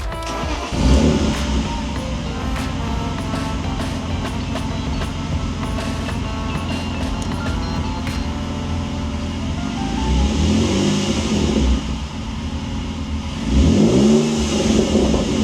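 Drift car engine revving erratically, with loud, continuous engine noise and uneven surges in pitch that swell near the end, no talking.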